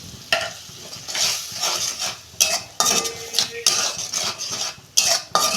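Spices stirred and sautéed in a pan with salt, turmeric and green chillies for a pabda fish curry; loud, close, repeated spoon scrapes and clanks over a steady sizzle, with no talk.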